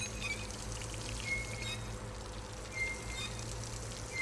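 A faucet in the Dishonored video game runs with a faint, steady hiss of pouring water, low in the mix over a constant background hum, and no voices.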